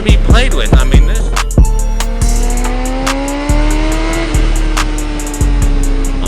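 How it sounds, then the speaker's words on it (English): A 600RR sport motorcycle on a January test ride revs hard and loud, its engine pitch climbing steadily through long pulls, broken by sharp gear shifts and drops, with steady wind noise throughout. "This bike has wonderful sound."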